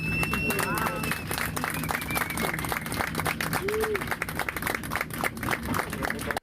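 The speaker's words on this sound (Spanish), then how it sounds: "la comitiva aplaudió" Aboard a plane just landed on the West African coast, a Colombian delegation claps in a steady burst of applause filling the cabin, with voices and chatter mixed in.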